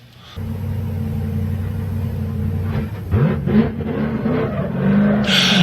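A drift car at Formula Drift qualifying in Orlando holds a loud, steady engine drone, then revs hard as its tires break into squealing skids, all close and loud with no talking.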